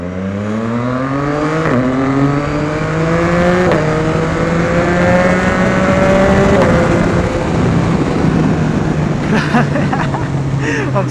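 A Yamaha XSR900 motorcycle is ridden close up, its engine loud and continuous and rising in pitch through several gear changes with wind rush, and no talk.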